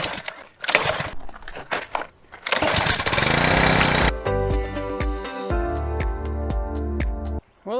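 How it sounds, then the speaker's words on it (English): A pressure washer's small gas engine is pulled over a few times, catches and settles into a steady, loud idle close by, with harmonic engine drone continuing to the end. "I haven't used this pressure washer in a while."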